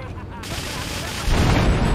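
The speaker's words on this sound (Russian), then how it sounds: "Взорви фургоны!" Vans blow up in the video game GTA 3, a heavy booming blast that swells into a loud, sustained low rumble, with the explosions rising sharply partway through over the game's din.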